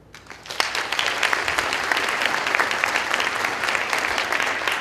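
Applause from a skeptics' conference audience at TAM 2017 used as a show of hands, rising quickly into sustained dense clapping from a large room of people that carries on steadily throughout.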